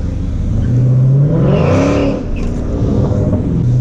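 Loud car engines rev and whir nearby at a car meet before a canyon cruise, including a widebody Dodge Challenger Hellcat, pitch rising and falling as they accelerate, with a constant rumble of several vehicles around.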